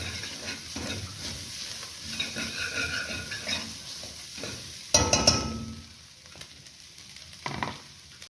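Ground turkey with aromatics and spices stirred in a pot for Trini chilli, sizzling steadily with soft scraping strokes and a louder clatter of the spoon against the pot partway through.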